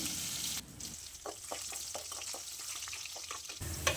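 Crushed garlic cloves fry in hot oil with mustard seeds and cumin, a steady sizzle with a run of small crackles and pops, close and fairly quiet.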